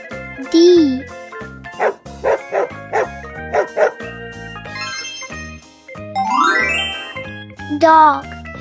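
A dog gives a rapid series of short, sharp barks and yips in a row, mid-clip, over bouncy children's music, with a few whimper-like cries at the start and end.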